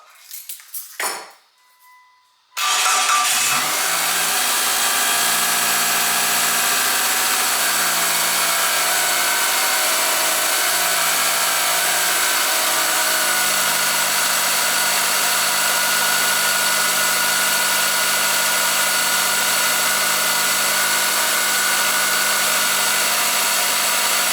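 A 2003 Mitsubishi Galant with a 2.4L engine cranks briefly after new spark plugs and wires, then fires and settles into a steady, close idle with a constant hum and faint mechanical ticking.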